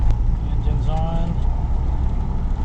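Car engine idling and running steadily just after a bump start during pulse-and-glide hypermiling driving at about 30 mph, a continuous low hum with brief faint tonal whine over road noise.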